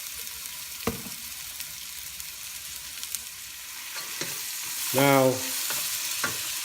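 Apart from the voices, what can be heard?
garlic frying in a pan for pinakbet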